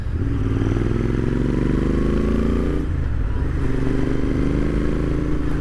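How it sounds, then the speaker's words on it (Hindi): A Royal Enfield Interceptor 650 motorcycle engine hums at about 3,000 rpm close by while cruising, steady and throbbing, with a brief dip in pitch midway. "अब अगर मैं तीन हज़ार पे ही हूँ तो बाइक की आवाज़ सुनाई भी बहुत कम देती है"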